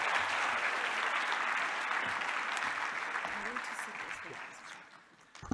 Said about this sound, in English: can we just give them a round of applause as they exit the stage?